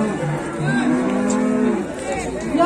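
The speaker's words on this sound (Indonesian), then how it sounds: "Sapi betina nih" A female cow at a busy cattle market in Gondanglegi gives one long, close moo. It rises and falls with the sound of the crowd's chatter behind it.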